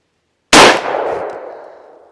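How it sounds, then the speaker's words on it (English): Single sharp gunshot from a Glock 19 9mm pistol firing a Barnes TAC-XP +P+ 95-grain round, loud and close, followed by a decaying echo over about a second and a half. "now the Barnes Tac XP out of the Glock 19, a plus P plus 95 grainer"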